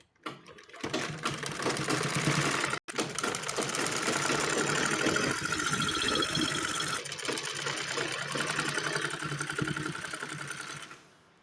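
A sewing machine stitches around a pajama belt in a steady, loud mechanical run with a rhythmic motor hum. It pauses very briefly once, then continues until it stops near the end.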